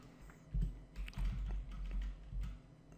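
Someone types a database query on a computer keyboard with a quick, uneven run of close, soft key taps and clacks, heard clearly alone.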